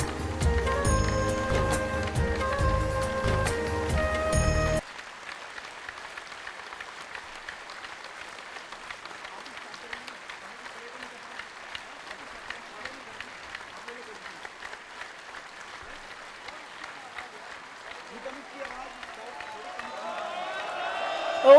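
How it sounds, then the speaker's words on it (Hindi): A stadium audience applauds at a spiritual gathering, a broad steady wash of clapping that follows a short burst of music and swells louder toward the end. "और आज ये पूरा स्टेडियम गूंज उठना चाहिए बहुत जोरदार तालियों के साथ।"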